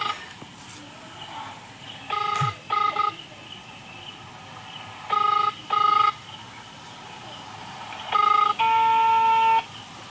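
A phone being dialed for a call, with a series of short tonal beeps in separate bursts, clear and close, over a faint background with distant fowl.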